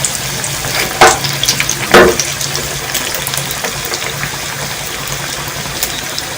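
Potato samosa rolls deep-fry in hot oil over medium heat, a loud continuous bubbling sizzle with two sharper bursts of crackle near the start, no talking.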